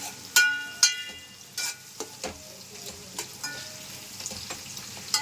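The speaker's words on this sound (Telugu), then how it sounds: "ఉల్లిపాయలు మాత్రం బాగా ఎర్రగా వేయించుకోవాలి" Onions frying in hot oil for mutton biryani, a light background sizzle punctuated by several sharp clinks and scrapes of a utensil against the pan, close and fairly quiet between the hits.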